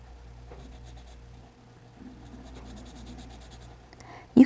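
A colored pencil shading on paper for a simple turtle drawing, close scratchy strokes in a continuous rhythm at modest volume, ending with a brief louder bump.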